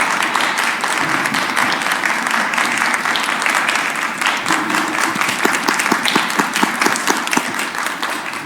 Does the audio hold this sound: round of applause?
yes